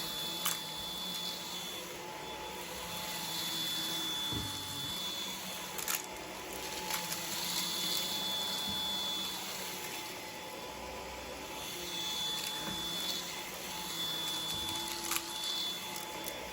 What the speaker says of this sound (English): this is a lot more work to push around than I'm used to with any type of battery-powered stick vac